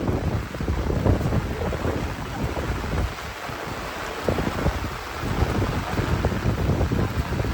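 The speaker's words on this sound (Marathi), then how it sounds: "भिजायला होतं एवढा वारा सुटला." Strong gusting wind with heavy monsoon rain outdoors in the Konkan during fishing, a loud continuous roar with wind buffeting the microphone throughout.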